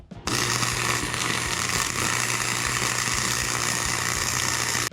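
Steady, loud crackling hiss of a welder running a bead along score marks on bent steel plates, close by with a low electrical hum underneath, continuous for the whole stretch.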